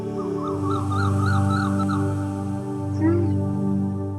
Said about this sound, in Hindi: कोयल की आवाज है।